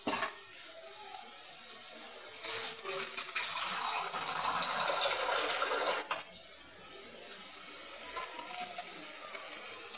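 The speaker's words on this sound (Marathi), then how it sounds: "आता आपण ह्याच्यात पाणी घालूयात।" Water poured into a pot of spiced potato curry, a soft splashing gush that builds and holds for several seconds before cutting off, then quieter clatter and faint room noise.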